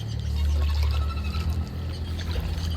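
River water flows steadily in the horror video game Outlast 2, a continuous wash with a deep low rumble underneath and no talk.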